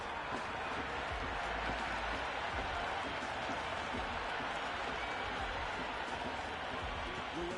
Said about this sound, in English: Listen to that crowd. They are loving this.